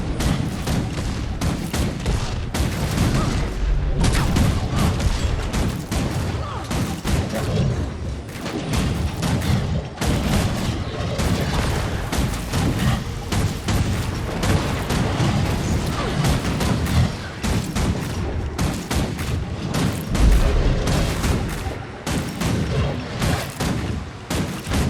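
Rocket punch attacks in a video game erupt as a dense, continuous barrage of loud booms, thuds and gunfire-like blasts, packed tightly together with no pause across the whole stretch.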